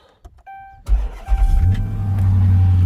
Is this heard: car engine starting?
yes